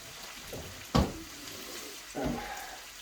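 Portobello mushrooms cooking in butter in a covered pan on a farm grill give a soft, steady sizzle, broken by two louder clattering stirs near the start and middle of the clip.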